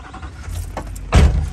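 A vehicle engine starts up close by, with a low rumble beginning after a few soft clicks and rustles and then a sudden loud, broadband burst as it catches and keeps running.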